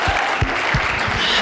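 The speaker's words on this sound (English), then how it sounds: "So let's applaud them for that, for showing up and showing out for all of us." An audience applauds performers and speakers at a Mental Health Week 2022 event, with a brief burst of clapping in which several separate claps stand out clearly against the crowd.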